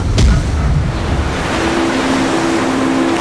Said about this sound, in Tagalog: Pero malakas yung alon.